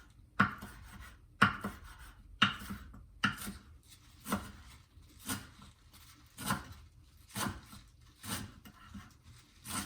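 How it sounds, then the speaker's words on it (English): A straight-edge knife slices a vegetable into very thin, noodle-like strips, making about ten soft, evenly spaced cutting strokes, each roughly a second apart, close and quiet with no talking. "I'm cutting it really, really thin, like little noodles or spaghetti strips"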